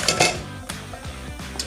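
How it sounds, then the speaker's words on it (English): Mince browns in oil in a pan, a metal utensil scraping and clinking against the pan in quick close strokes with a low background sizzle. "So I heat up some oil in the pan and start by browning off the mince"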